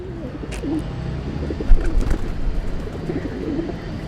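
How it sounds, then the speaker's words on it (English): Pigeons cooing in a busy city square, low soft coos repeating throughout with a few wing flutters and distant crowd murmur behind. "as soon as like a critical mass of pigeons goes, they all kind of follow"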